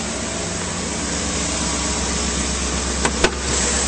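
Engine of a 2006 Chevrolet Silverado 2500 with an 8.1 liter big block V8 idling smoothly under the open hood, a steady even hum, close and continuous, with two brief clicks near the end.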